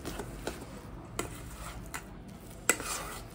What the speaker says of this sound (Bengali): বেশ সুন্দর করে মিশিয়ে নেবো আমরা